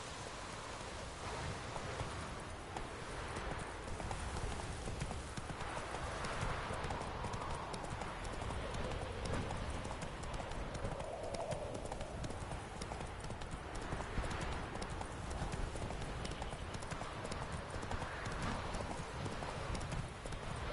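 Horse hooves clip-clop in a steady, even rhythm throughout a video game ride, lasting about twenty seconds with no break.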